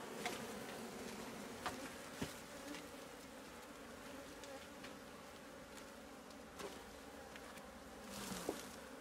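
Honeybees buzz steadily throughout a honey harvest, a dense insect drone with a few brief knocks and clicks, a louder swell near the end, and no talking.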